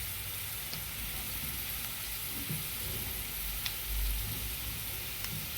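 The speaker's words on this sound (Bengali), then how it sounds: "তো এইবার একে একে আমি মশলার গুঁড়োগুলো দিয়ে দেবো।" A steady, hissing sizzle rises from a frying pan as spice powders, including turmeric, go into a vegetarian soybean curry, with faint scraping and a few soft knocks over the constant fry.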